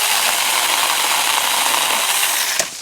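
A light mini chainsaw cuts overhead branches, a loud, continuous close-up whine and rasp that holds steady and then drops away near the end, with no talking.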